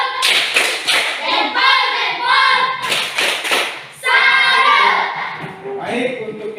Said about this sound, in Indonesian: kita tepuk salut untuk kita semua